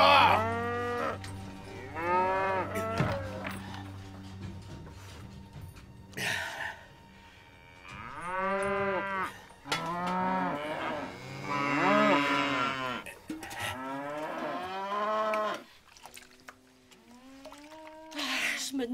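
Several cows moo loudly and repeatedly, their long, drawn-out calls overlapping and rising and falling close by over a low rumble.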